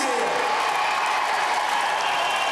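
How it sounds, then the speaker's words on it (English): Studio audience of the Gladiators UK TV show cheering for a female contestant, a steady broad crowd roar with applause sustained throughout, loud and continuous with no talk on top. "Come on, give her a cheer."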